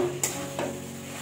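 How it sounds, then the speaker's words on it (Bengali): Marinated chicken for chicken tarka is stirred in a pan at home: two brief spoon scrapes over a faint, low sizzle, with no talking. "একবার নেড়ে নেড়ে দেখতে হবে, না হলে আবার মাংসটা লেগে যেতে পারে।"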